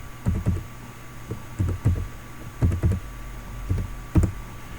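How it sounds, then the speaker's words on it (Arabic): A computer keyboard being typed on while entering a student's national number, with short bursts of clear, close key clicks in an uneven rhythm over a steady background hum. "اذا غادي نكتب الرقم الوطني ديال هذا الطالب هذا."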